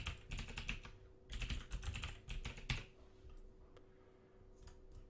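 A password is typed on a computer keyboard in quick clusters of close, crisp key clicks with short pauses, tapering off to sparse taps at the end.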